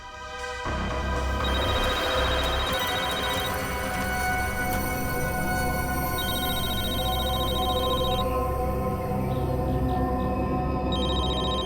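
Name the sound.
telephone ringing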